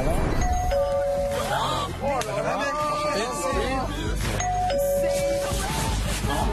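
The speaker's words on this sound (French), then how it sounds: "à chaque fois que la sonnette de la maison retentissait" A house doorbell gives two clear ding-dong chimes, a few seconds apart, over music and a busy background with speech.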